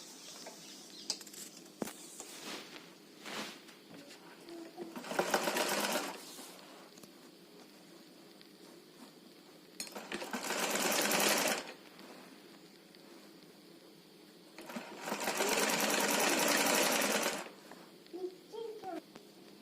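Sewing machine stitching fabric from an old saree being made into a dress, running in three distinct bursts of a couple of seconds each, with someone talking quietly in the pauses between.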